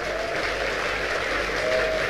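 An audience at an Islamic religious lecture with pesantren students claps, a continuous even patter of applause filling the room with no pauses.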